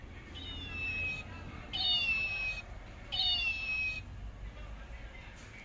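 A toy cat sounds off in a toy shop in Saudi Arabia, giving three short electronic meow-like chirps with gliding tones, evenly spaced and fairly close, over a faint background hum.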